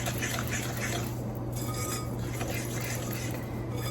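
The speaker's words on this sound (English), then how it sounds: "we are going to add a little bit of our dry to our wet. I'm going to whisk it in." A whisk works dry ingredients into wet pumpkin snickerdoodle cookie batter in a bowl, producing a continuous close clinking and scraping against the bowl over a steady low hum.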